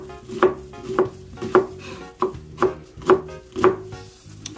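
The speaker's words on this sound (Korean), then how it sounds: "양파는 반으로 썬 다음에 여기서 이렇게, 그리고 여기서 한 번만 더 칼집을 내주세요." A knife chops a halved onion on a cutting board in seven or eight firm, evenly spaced thunks, close and clear with nothing else heard.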